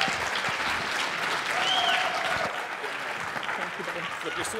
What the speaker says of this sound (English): One big round of applause, godless round of applause, for Sarah Morehead.